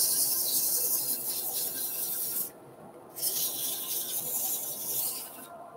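Abrasive sanding of a zebrawood bowl spinning on a wood lathe at under 700 rpm, a steady close hiss and rasp that cuts out briefly twice as the paper lifts off the wood.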